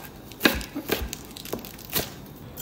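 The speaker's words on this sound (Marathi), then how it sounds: "यासाठी पालक आपण चिरून घेऊ" A knife chops fresh spinach leaves on a board for a buttermilk spinach dish. Four or five crisp cuts fall at an irregular pace, close and moderately loud.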